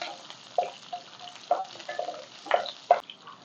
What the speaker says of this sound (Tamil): இப்போ சின்ன வெங்காயத்தை போட்டுக்கலாம்.